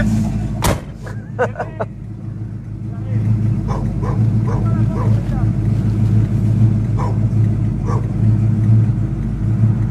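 A pit bull barks a few sharp times early on over a loud, steady car engine rumble from a 1967 Mustang Fastback, with people talking.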